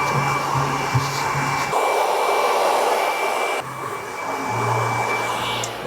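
A hair dryer with a styling nozzle blows loudly and continuously while styling a man's medium-length hair, its airflow shifting in tone as the nozzle moves closer to and away from the hair.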